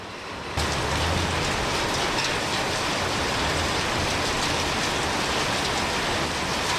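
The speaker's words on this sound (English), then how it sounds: "Now it's hailing on us." Hail pours down in a dense, loud, steady hiss and patter that begins abruptly and continues without letup, close by and outdoors with no talking.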